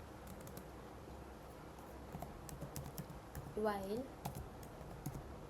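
Quick, light keystrokes from a computer keyboard as C++ code is typed, soft irregular clicking close by under a man's quiet speech.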